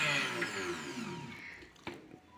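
A kitchen mixer grinder, used to grind green chilies and ginger, gives a high whining spin that fades as the motor winds down, followed by a few faint clicks and knocks near the end.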